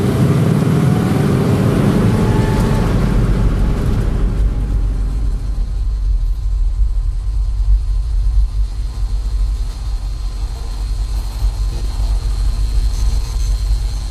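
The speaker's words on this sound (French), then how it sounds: "il y a une voiture" A car passes nearby, a loud broad whoosh for the first few seconds that quickly fades into a quieter background hum.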